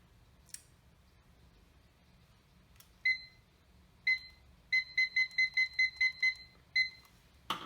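A kitchen timer being set in a home bread-baking kitchen: a few faint clicks, then loud electronic beeps, single at first and then a quick run of about seven in a row, close and clear over quiet background.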